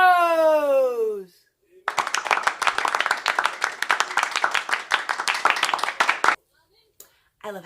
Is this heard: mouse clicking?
no